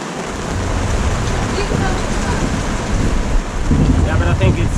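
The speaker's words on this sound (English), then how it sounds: "It's kind of heavy rain, but the thunder is decreasing a little bit" Heavy rain pours steadily at anchor off a Jamaican coastline aboard a sailboat, with broadband hiss throughout and low rumbling thunder fading in the background.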